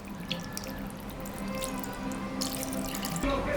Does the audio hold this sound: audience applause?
no